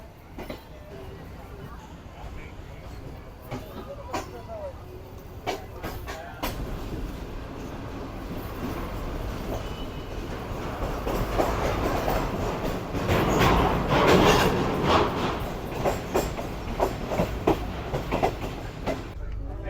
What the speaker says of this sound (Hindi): 9:16 पर फाइनली ट्रेन हमारी निकल रही है रहीम मियां खान रेलवे स्टेशन से